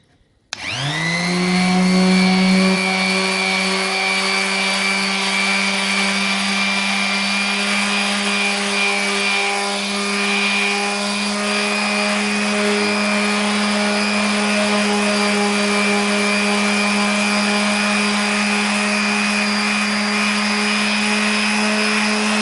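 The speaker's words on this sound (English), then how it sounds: "Okay, I'll show you how to start sanding. This is our hand palm sander." A palm sander starts up and runs steadily on a wooden speaker cabinet with a loud, high motor whine and hum, continuing unbroken for a long stretch.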